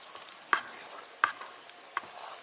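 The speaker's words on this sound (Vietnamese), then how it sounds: "Mình quậy đều lên." A spoon stirs tapioca flour batter for bánh canh in a pot, with three sharp scraping knocks spaced evenly against soft swishing, close and alone.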